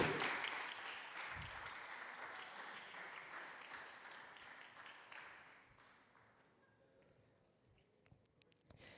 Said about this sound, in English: A round of applause for Essa Al-Hamadi.